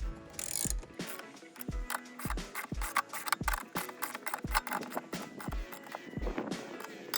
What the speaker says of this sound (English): you can tighten up the two top bolts.